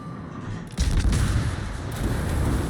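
Warship gunfire in a naval video game, a sudden heavy boom from an enemy ship's guns followed by a rumbling, sustained roar of shells and explosions, loud and close.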